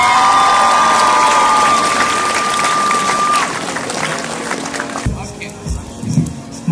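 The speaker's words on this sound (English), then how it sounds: "Let's give them all 1 big round of applause" Applause and cheering rise from an audience at a finale event, dense clapping with whoops and crowd noise, a sustained tone early on, thinning out later amid voices.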